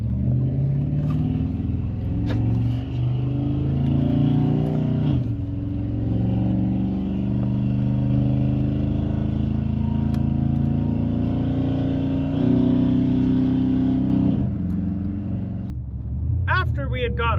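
A truck's engine revving and pulling hard as it accelerates, its deep drone rising in pitch, with people talking over it inside.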